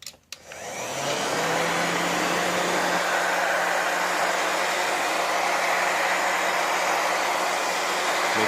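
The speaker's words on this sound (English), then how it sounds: "This right here is a regular heat gun. Not a blow dryer. This one gets really hot, so be careful with it." A handheld heat gun runs steadily at close range while softening old teak boat trim, a loud continuous airy roar with a faint motor hum after a short start-up click.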